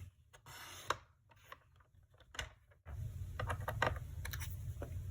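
Paper for a butterfly pop-up card being cut on a trimmer, close scraping and clicking strokes with sliding noise and small knocks, no talking.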